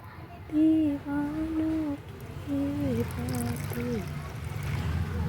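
Water trickles and pours into the soil of a flower pot in a home garden, a soft steady wash running under a voice that talks over most of the clip.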